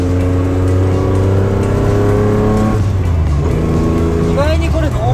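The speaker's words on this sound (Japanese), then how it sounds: "エンジンもマフラー音も。" A Nissan Fairlady Z 240ZG (S30) with a modified 3-litre L28, Solex carburettors, headers and dual mufflers runs with a deep, steady engine drone that shifts in pitch partway through, while people talk over it.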